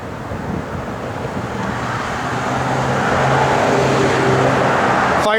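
A 1955 Ford F100 pickup engine running, a steady low rumble with a faint rhythmic idle throb that swells slightly louder toward the end, heard fairly close without voices.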